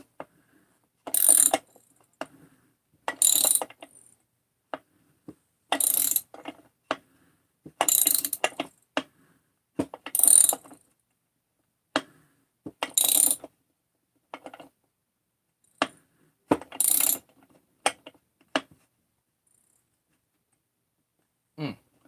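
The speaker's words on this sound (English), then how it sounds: "with a ratcheting wrench," A ratcheting wrench turns on a 394 crankcase in repeated bursts of rapid clicking, each lasting about a second with pauses between, close and crisp, with no talk over them.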